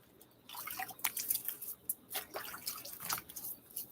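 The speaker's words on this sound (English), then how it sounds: "now let's splash on my face again" Wet splashes and drips as water is cupped and slapped onto the face at a bathroom sink during a wet shave, a series of close, irregular splashy bursts with trickling in between.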